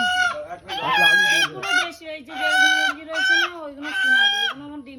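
Several native village chickens squawk and cackle loudly in repeated bursts close by, with a voice talking underneath.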